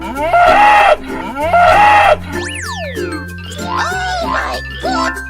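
A cartoon cow gives a long, loud moo amid a playful animal-crossing cartoon, with a springy boing and bright chimes nearby and cheerful voices around it.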